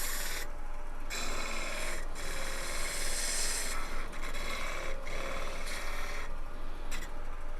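Sandpaper on a spinning wooden shell on a lathe, for a magician's ball and vase piece: a continuous close, raspy rubbing hiss with rhythmic surges as the paper is pressed and lifted, with no talk.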